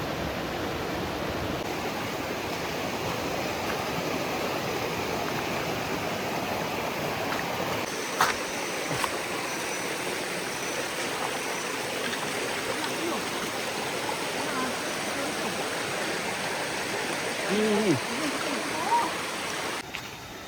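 A river to be crossed flows steadily nearby, a constant broad rushing of water, with a brief voice and a small splash near the end.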